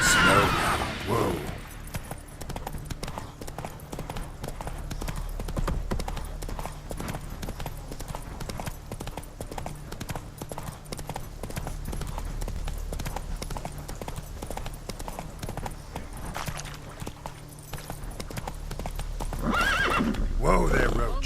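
Roach, a horse in the video game The Witcher 3, gallops with steady rapid hoofbeats and neighs loudly near the start and end, while someone talks over the action.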